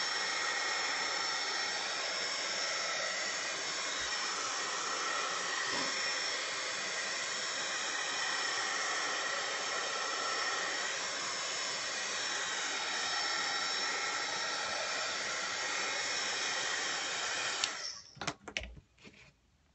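A handheld dryer blows a steady, loud broadband whoosh up close to dry paint on paper, running continuously before cutting off near the end with a few clicks and knocks.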